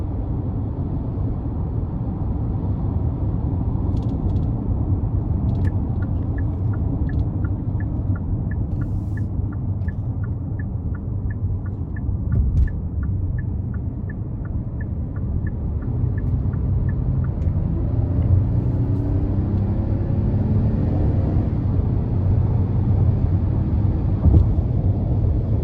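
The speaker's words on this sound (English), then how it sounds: "really quick for it to be a naturally aspirated V6, especially with it being a heavier SUV" A 2021 Kia Telluride S, a heavier SUV with a naturally aspirated V6, accelerates from inside the cabin, giving a steady loud engine drone and road rumble that holds for the whole stretch with no talk.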